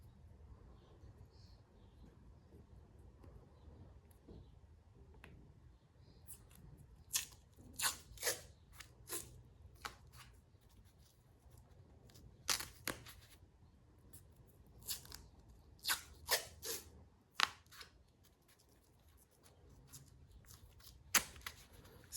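Athletic tape torn by hand while wrapping a hand for boxing: a series of sharp, brief ripping bursts in irregular clusters, fairly close and crisp over a quiet background.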